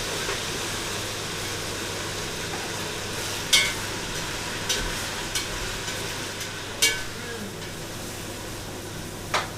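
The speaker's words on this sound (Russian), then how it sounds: "Все, и кидаем основное мясо." Meat pieces for plov drop into hot fat in a kazan, giving a steady broadband sizzle with a few sharp crackling pops and stirring clatter spread across it; no voices.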